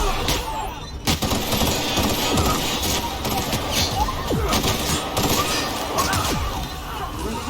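Sustained gunfire in The Outer Worlds, dense bursts of automatic shots and scattered single cracks layered into a loud, continuous fusillade over battle noise, with a voice speaking briefly.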